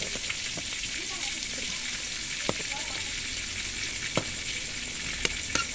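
Masoor dal fritters sizzle steadily in hot oil in a pan, a dense continuous crackle with occasional sharp pops and light scraping, no talking.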